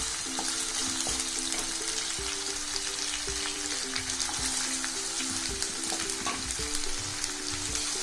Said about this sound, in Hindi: और हमारा पनीर भी फ्राई हो जाएगा।